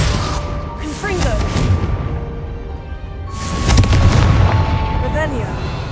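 Two booming Confringo spell blasts from the video game Hogwarts Legacy, one near the start and one past the midpoint, each a loud, rumbling burst with a rising whoosh, set over game ambience and a spoken voice.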